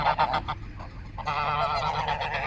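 Several geese honking loudly and close by, a burst of calls followed by a denser, continuous chorus of honks.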